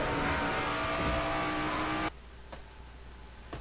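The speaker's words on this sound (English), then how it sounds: "Seth Cole has crashed!" A race car in a stock-car racing video game roars loudly at speed, then the engine noise cuts off abruptly mid-clip, leaving faint background hum and a couple of brief clicks.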